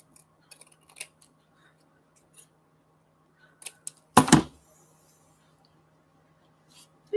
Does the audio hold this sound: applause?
no